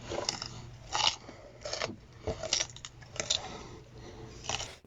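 Crunching sound effect from an analog horror piece: a series of dry, crackly crunches in irregular bursts, like brittle biting or snapping, fairly close and quiet with no talk.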